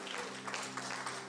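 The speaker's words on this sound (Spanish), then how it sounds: "Denle ese aplauso fuerte al Señor" A church congregation applauds for the Lord, a steady wash of many hands clapping together, with a faint tonal hum running underneath throughout.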